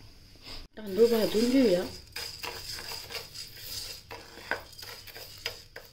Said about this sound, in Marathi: आता आपण तांदूळ भाजून घेऊया